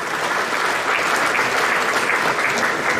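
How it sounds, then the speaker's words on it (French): Sustained audience applause from a crowd at a French community gathering, steady dense clapping throughout at an even level, with no talk above it. "Vous pouvez l'applaudir,"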